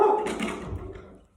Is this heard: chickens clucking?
no